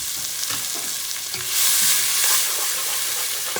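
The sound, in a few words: minced garlic frying in a pan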